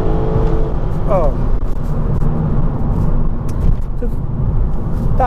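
A sports car accelerates hard from a standing start, its engine rising in pitch and revving loudly up close while someone talks over it.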